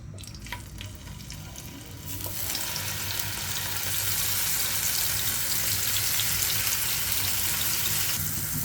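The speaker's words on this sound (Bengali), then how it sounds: "এটা কিন্তু অল্প তেলে ভাজিটা করে নিব আমি" Lentil patties fry in a little soybean oil, the hiss swelling loudly after a quieter start as the patties go into the hot oil, then holding as a dense, even sizzle; no one speaks.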